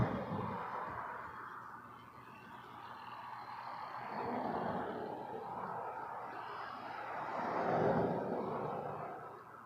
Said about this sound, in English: 7878, Dreamliner to Madrid